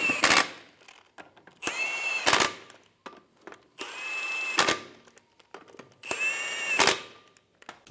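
An impact tool tightens wheel lug nuts on a 2000-2007 Ford Focus, firing in four short, loud whirring bursts spaced a couple of seconds apart, with faint clicks and handling noises between them in a quiet garage.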